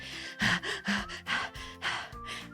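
Panting breaths from an animal or a voice, a series of about six loud heavy gasps in an uneven rhythm, close and alone with no talk.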